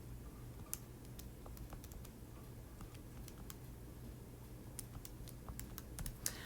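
Rapid light key taps entering numbers into a calculator, a quick irregular run of faint clicks over a steady low hum in a quiet room.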